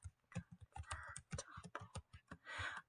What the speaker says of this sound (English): So now I'm going to type in the Red Convertible.